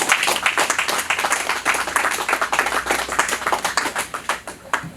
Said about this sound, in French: Est-ce qu'on peut applaudir cette présentation de notre bien-aimé?